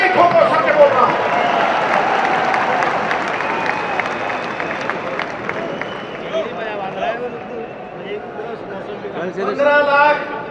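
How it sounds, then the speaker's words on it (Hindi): Crowd clapping at a political speech by a politician, a sustained wash of applause and cheering from a large audience, loud and continuous with voices mixed in and swelling again near the end. "ठोको ठोको ताली ठोको"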